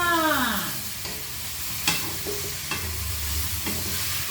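Squash being stirred in a sizzling frying pan, a utensil scraping and clacking against the pan in a few distinct strokes over a steady close fry.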